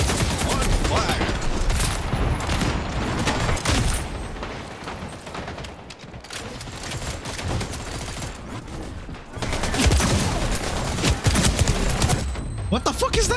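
Rapid gunfire in the Splitgate 2 video game, dense bursts of shots and impacts continuing throughout, loud and close, with game announcer and player voices talking over it.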